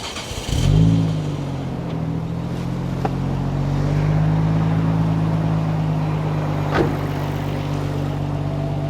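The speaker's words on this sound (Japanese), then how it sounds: "じゃあエンジンかけますよ。" Nissan RB26DETT engine fitted with a Mine's Silence VX Pro Titan 3 titanium rear muffler starts up at close range, then settles into a steady, smooth, quiet idle with a deep even drone.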